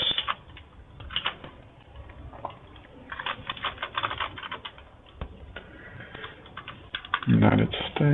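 Rapid keystrokes on a computer keyboard while entering address details into an online shopping cart form, a steady run of close, crisp clicks with a louder burst near the end.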